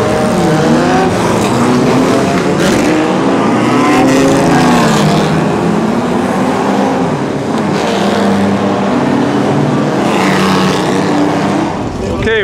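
Historic race cars, including Frazer Nash, Jaguar, Allard and BMW, roar loudly past at the Monaco Historic Grand Prix, engines rising and falling through gear changes, with a voice speaking over the din.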